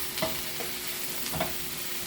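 Garlic kale is tossed in a hot pan with the heat just turned off, giving a steady sizzle broken by a few soft scraping stirs. The sound is close, with no voices.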